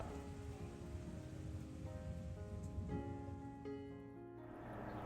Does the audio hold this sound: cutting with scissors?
no